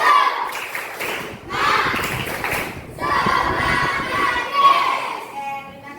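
A group of schoolchildren doing a rhythmic spirit clap in unison, with bursts of fast clapping and chanting voices in a room, loud and close throughout.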